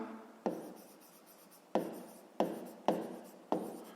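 Hand writing on paper while working a school maths exercise: a handful of distinct scratchy pen strokes, close and crisp, each starting sharply and trailing off, with quiet pauses between them.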